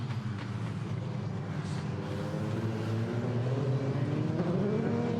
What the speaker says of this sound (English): So the cars turn their way out of the Spitzkehrer.